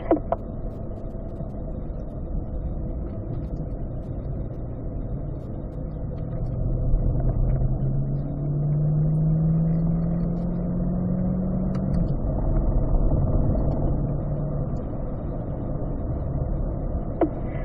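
Car accelerating out of a turn on a race track during a lead-follow driving session, a steady mid-pitched engine drone that swells and rises in pitch as it pulls away, with no talk.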